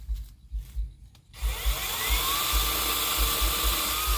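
Knocking and rustling at first, then an electric saw starts up and whines loudly and steadily as it cuts large yang na tree branches, its pitch shifting under load.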